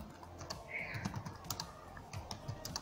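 Quiet, rapid clicking of a computer keyboard as code is typed for a PHP student management system, with a soft voice faintly murmuring in the background.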